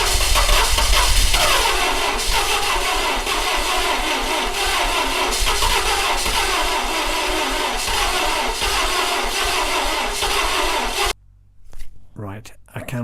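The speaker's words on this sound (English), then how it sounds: "The car wouldn't start because I'd got the plug leads mixed up" The engine of a Lancia Delta Integrale Evo1, running with its spark plug leads mixed up, cranks over and over without firing. The churning is loud and close and stops abruptly, followed by a short burst of voices.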